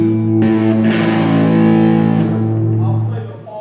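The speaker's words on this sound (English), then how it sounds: "For example, when I play distortion," Gritty, distorted electric bass: a low sustained note with buzzing overtones, a couple of fresh attacks, then ringing out and fading.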